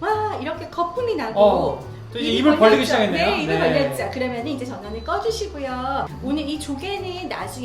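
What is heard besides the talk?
None of the usual background noises is heard.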